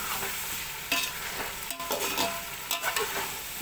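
Chicken frying in a pan with a smoky charcoal tikka preparation, giving a steady broadband sizzle with stirring scrapes and a few louder spatula clatters, close and continuous with no talking.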